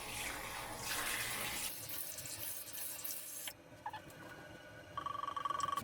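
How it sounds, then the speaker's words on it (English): Tap water runs steadily into a bathroom sink as a face is rinsed with cool, lukewarm water, a broad splashing hiss that shifts and drops partway through, followed by lighter drips and splashes, with no one speaking. "with my normal rinsing my face like I do every morning"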